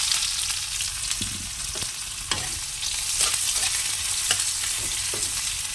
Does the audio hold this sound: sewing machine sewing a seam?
no